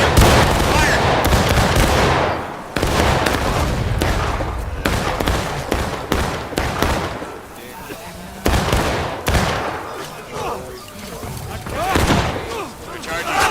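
Musket volleys and gunfire crackle across a Civil War video game battlefield, loud repeated bursts mixed with shouted voices and battle noise throughout.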